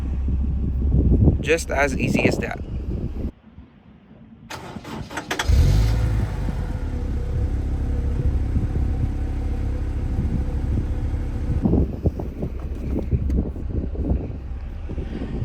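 A 2000 Honda S2000 AP1 is push-started with the clutch in, its engine catching with a loud crank and settling into a steady, close idle, with someone talking briefly before and after.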